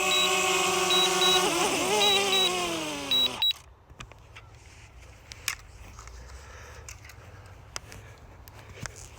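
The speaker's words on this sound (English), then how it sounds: "Got the drone down and stopped that beeping." A DJI Mavic Mini drone landing gives a steady electronic tone with a rising harmonic sweep and a beeping pattern, cutting off abruptly partway through, leaving a quiet hum with faint clicks.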